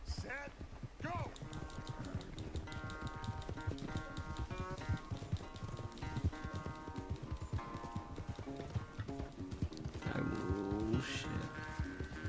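Horse hooves gallop in a video game race, a steady clip-clop running under game music and effects while people talk throughout.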